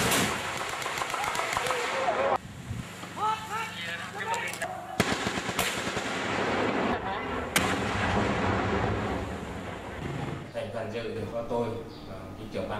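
Naval warship artillery firing at sea in a Vietnamese Navy exercise: a series of loud, sharp gun blasts and booming reports spread through the stretch, with a continuous rumbling background and voices mixed in.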